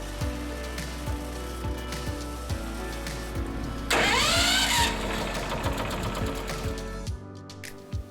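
A Titan Pro TP800 270cc petrol wood chipper drones steadily, then a brief whirring burst rises partway through, and the low engine hum drops away near the end.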